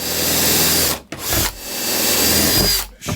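A power drill drives screws to secure a water tank inside a Mercedes Vario camper van, whirring loudly and close in two long bursts separated by brief pauses, with no talking.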